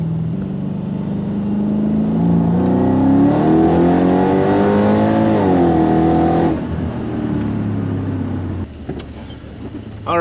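A loud engine in an M113K-swapped Mercedes CLK55 AMG with a surge tank revving up hard, its pitch climbing steadily as it accelerates, then dropping off as the roar eases near the end.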